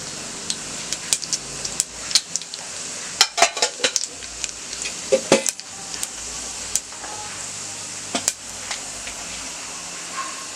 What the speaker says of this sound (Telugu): వేగిన తర్వాత దీంట్లో కొంచెం జీలకర్ర వేసుకుందామండి ఒక స్పూన్ జీలకర్ర